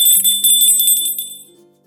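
A bright notification bell sound effect rings out with a few quick chimes, then its tone fades away, clean and alone.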